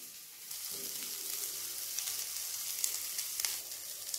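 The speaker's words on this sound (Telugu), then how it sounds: "చాలా తొందరగా ఫ్రై అవుతాయి ప్రాన్స్" Prawns fry in a pan with garlic and finely chopped green chillies, giving a soft, steady sizzle with occasional crackles and pops, fairly quiet and close, with no talking.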